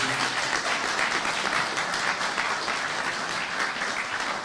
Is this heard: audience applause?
yes